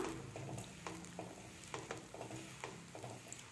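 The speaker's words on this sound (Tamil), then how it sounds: "இது ரெண்டையும் ஆட் பண்ணிவிட்டு நல்லா மிக்ஸ் பண்ணிக்கலாம்" Raw mango pickle being stirred as spices are mixed in off the heat with sesame oil, a run of soft repeated scraping strokes and light clatter at a steady rhythm, fairly quiet and with no voices.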